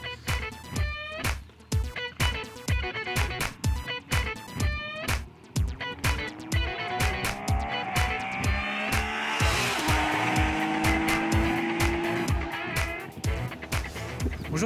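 Cars racing on the Fontenay Pôle 85 motorsport track at Fontenay-le-Comte, a steady loud engine roar with repeated rhythmic pulses and rising, falling revs as vehicles pass near, with no talk.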